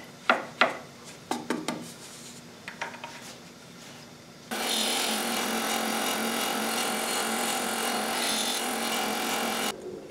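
A power saw cuts small half-inch miniature wood segmented discs. A few sharp knocks and handling clicks come first, then a loud continuous cutting whine runs steadily to the end, with no talk.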